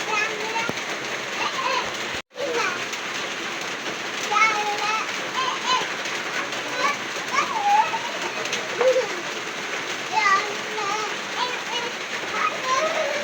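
Steady, dense rain hissing throughout, with birds chirping faintly and occasional voices in the background.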